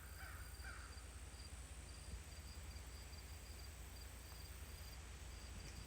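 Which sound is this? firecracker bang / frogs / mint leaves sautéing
frogs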